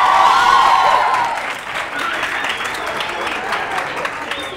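Studio audience at a Catalan television word quiz show applauds steadily, a dense wash of hand claps that starts loud and settles to a sustained lower level, alone without talk.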